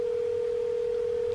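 A Skype call ringing tone, a single steady pure tone holding unbroken and moderately loud with nothing else over it.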